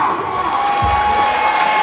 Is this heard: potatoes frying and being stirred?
no